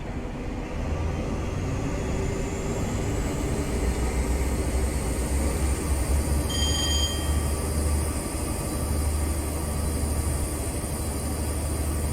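A Class 43 HST diesel train in Train Simulator Classic runs at speed on the 125 mph section between Newcastle and York, a continuous loud engine roar and rail rumble with a rising whine and a brief tonal squeal.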